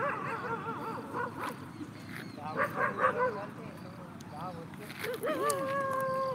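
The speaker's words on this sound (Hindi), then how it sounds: "पिग के ऊपर भौंक रहे हैं सबके सब।" Several dogs yelp, whimper and bark excitedly at a group of pigs outdoors, in rising and falling bursts close by, with steady background noise and people talking over them.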